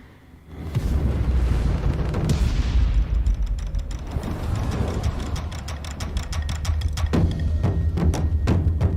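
Rumbling explosions and rapid bursts of gunfire from the Gunfire Reborn game trailer build over a dense, loud soundtrack, ending in sharp repeated shots.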